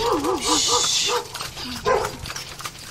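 A dog whines and yips in high, wavering cries, followed by a few short barks, close by amid background noise and some talk at a market in Angeles City.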